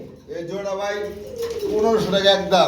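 Fantail pigeons coo in a breeding market, soft throaty rolling calls repeating close by, with someone talking over them.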